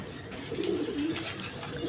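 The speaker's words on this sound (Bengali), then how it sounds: "এখানে এক পেয়ার কবুতর সেন অ্যারাবিয়ান কোকা কবুতর দেখেন" A pair of big white Arabian coca pigeons, a male and a female, coo softly in low, rounded notes across under two seconds, close by against a steady background hiss.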